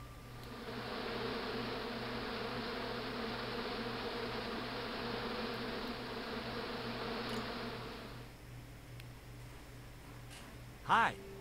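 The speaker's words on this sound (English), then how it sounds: "As I walked towards the bush, it started buzzing angrily" An angry insect-like buzzing from a bush in the adventure game Broken Sword 2: The Smoking Mirror, a steady droning hum that holds for about eight seconds, then drops away, followed by a brief sharp sound near the end.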